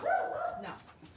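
Dogs bark at close range in a short yelping burst that starts loud and then fades, with nobody talking over it.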